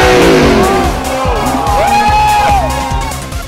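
Supercars rolling through a parade, their engines roaring loud and near with revving pitch sweeps and gear-change dips, over a crowd murmur.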